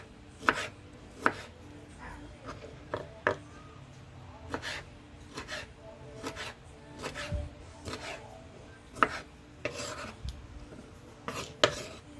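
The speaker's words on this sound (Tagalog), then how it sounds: "Yan, ganyan lang po pag-slice ng kamatis." Tomato being sliced with a knife on a cutting board for a radish salad, a series of quiet, sharp chopping taps at an uneven rhythm, close by.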